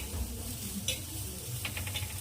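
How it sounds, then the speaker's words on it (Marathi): Low, steady sizzling of onion sautéing in oil in a pan, with a few soft scraping stirs over the continuous hiss. "असं कांदा आधी असं परतून घ्यायचं नंतर यामध्ये तेल थोडं ॲड करून भाजून घ्यायचं"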